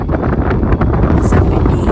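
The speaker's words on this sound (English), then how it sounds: "It is ridiculously windy on the overlook." Strong wind buffeting the microphone in loud, continuous gusts on a scenic overlook in Cañon City, Colorado, a heavy roaring rumble with no clear voices.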